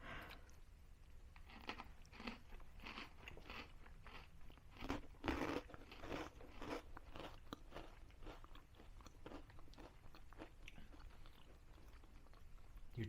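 Close, crisp crunching and chewing of a freeze-dried Bluebell ice cream sandwich with a styrofoam-like texture, in repeated brittle bites that crackle and squeak, quiet and intimate, with no talking.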